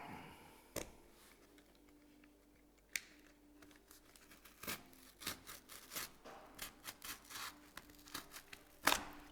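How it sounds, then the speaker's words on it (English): A box cutter slices cardboard silhouettes for Halloween lighting, making irregular scratchy cuts and rustles up close. The strokes grow more frequent toward the end, with a few sharper snaps. "Use a box cutter, good mat knife, or anything like that. Just cut these guys out."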